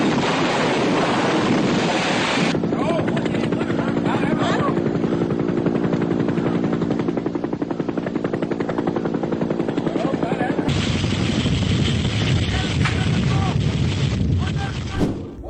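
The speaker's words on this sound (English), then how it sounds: "The tail of this CH-53 helicopter suddenly began to shake violently during a low-altitude military mission." A CH-53 military helicopter on a low-altitude mission losing control after violent tail shaking, then crashing: a loud, continuous rotor and turbine roar with heavy buffeting wind noise, a rapid chopping rattle and an abrupt shift near the end.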